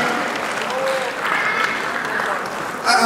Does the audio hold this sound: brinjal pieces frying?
no